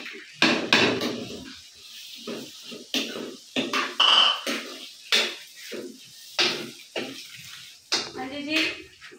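A spoon stirs and scrapes bitter gourd vermicelli in a metal cooking pot with tomatoes and chillies, giving repeated clinks and wet scraping strokes in an uneven rhythm, close up, with a voice speaking intermittently over it.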